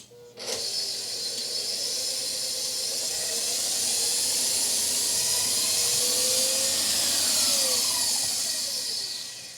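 Electric mixer beating cake batter with egg, a steady whirring hiss that starts abruptly and runs for several seconds, with a faint shifting pitch as the beaters move through the bowl.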